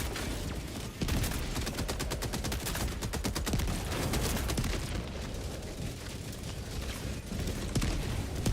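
A rocket launcher fires in Helldivers 2, lost in sustained rapid gunfire: dense rattling bursts and crackling shots that go on for several seconds, loud and close, with brief heavier blasts mixed in.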